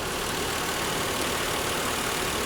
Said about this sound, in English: Okay, so the engine runs perfectly.